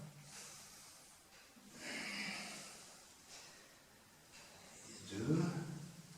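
Breathing during the Five Tibetans yoga exercises, soft breathy exhales and inhales in a slow rhythm, ending in a stronger snort-like breath, faint and close.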